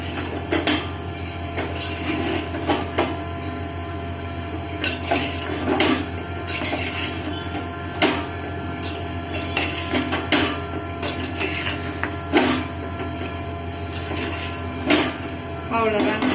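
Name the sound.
spoon mixing sprouted green gram sundal in a bowl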